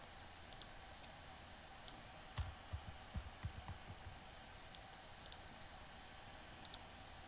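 Sparse, soft keystrokes on a computer keyboard tap out in short irregular bursts in a quiet room, a few isolated clicks and a brief flurry of typing.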